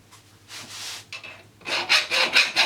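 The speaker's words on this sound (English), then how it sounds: "we do it just by filing it out with a round file" A round file scrapes out the internal stop of a pipe fitting, giving close, rasping strokes: a few slower passes, then a quick run of short, harder strokes at the end, with no talking.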